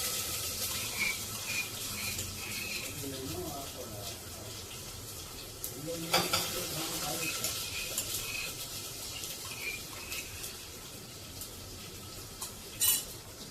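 Asafoetida and ginger, chili and garlic paste sizzle faintly in hot oil for masala khichdi, with scattered utensil clinks and scraping, a few louder knocks, and soft background activity.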